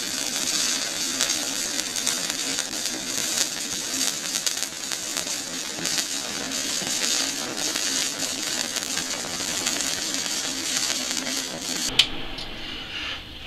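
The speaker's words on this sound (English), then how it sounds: "Alright, let's shut the welder off" Stick welding vertical down with a 7018 rod, a steady loud crackling buzz and sizzle of the arc running unbroken for about twelve seconds, then cutting off abruptly with a brief click.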